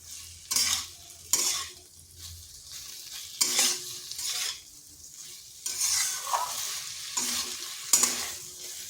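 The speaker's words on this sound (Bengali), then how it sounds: "এরপর সয়াবিনের আলু খুব ভালো করে কিন্তু কষে নিতে হবে।" Soybean chunks and potatoes fry in a pan over slow to medium heat. Rhythmic bursts of stirring and scraping alternate with quieter sizzling pauses, with a few utensil clinks up close and no speech.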